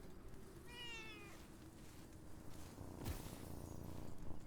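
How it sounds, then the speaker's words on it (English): A small black cat in the video game Enshrouded gives one short, clear meow over a steady background of ambient noise and soft footsteps. "It's a little black cat in his game as well."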